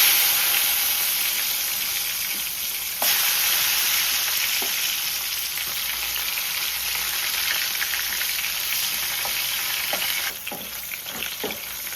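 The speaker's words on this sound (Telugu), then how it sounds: "నూనె వేడెక్కిందండి. ఫస్ట్ డ్రై ఫిష్ వేసేసుకుందాం నూనెలో." Dry fish sizzles in hot cooking oil, a dense, close crackling fry that holds steady throughout, with a few sharper pops and spatters near the end and no talking.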